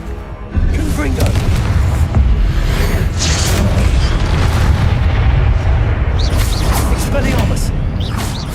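Confringo blasting spells explode in Hogwarts Legacy combat, with a loud boom at the start followed by continuous rumbling bursts and clatter as people talk.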